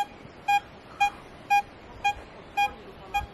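A Vista X metal detector gives a double-signal target response, a steady run of seven short, evenly spaced electronic beeps over quiet outdoor background noise, with no talk.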